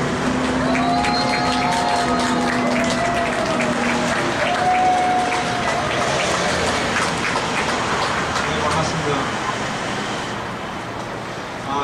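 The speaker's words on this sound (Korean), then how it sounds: "박수 좀 알아서 좀 해주세요" Loud, sustained applause from a large audience at an outdoor candlelight protest rally, dense clapping that continues without pause and fades slightly near the end.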